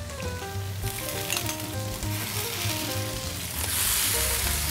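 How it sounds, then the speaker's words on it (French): Cep mushroom heads fry in a pan of butter and oil, giving a steady close sizzle and crackle that runs throughout and swells louder toward the end, with no talking. "Ensuite, nous allons mettre à poêler nos têtes de cèpe"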